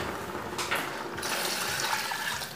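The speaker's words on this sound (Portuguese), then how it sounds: "tô colocando mais água" Water pours steadily into a pot of homemade vegetable soup with potato, a continuous splashing rush that swells and eases slightly over a couple of seconds, close and fairly loud.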